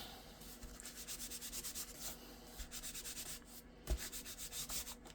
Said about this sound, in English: So I'm just rubbing the tissue on the back.